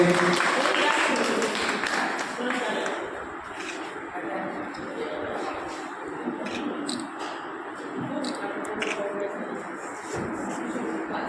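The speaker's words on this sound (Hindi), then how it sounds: "जोरदार तालियों से स्वागत कीजिए।" Dense applause from a crowd at a Lions Club teachers' honouring ceremony fills the whole stretch, fairly steady and moderately loud, with voices murmuring underneath.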